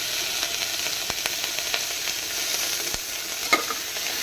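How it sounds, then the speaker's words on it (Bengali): Cauliflower, carrot, cabbage, beans and egg frying lightly in a pan give a continuous close sizzle, with scattered crisp crackles and a few sharper pops. "সবজিগুলো হালকা একটু ভেজে নিলাম"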